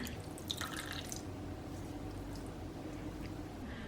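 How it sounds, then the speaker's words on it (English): Water drips and trickles from a handful of wet paper mache clay being squeezed out by hand, a steady close splatter under a constant background hiss with a few brighter drips near the start. "squeezing out some of the water"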